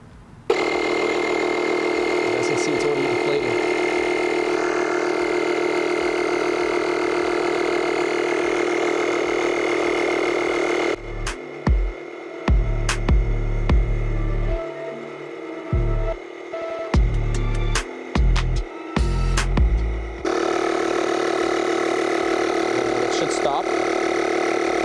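A Lokithor JA301 portable jump starter's built-in air inflator pumps a tire with a steady, close buzzing hum, then falls into intermittent knocks and clicks as it stops and is handled.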